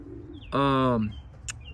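Racing pigeons in a loft give a single clear, close coo lasting about half a second, followed by a brief faint chirp, with low background noise throughout.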